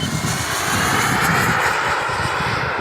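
A Boomerang Lancer RC jet flies at about half throttle with flaps set, its engine a loud, steady turbine roar sustained throughout with no speech.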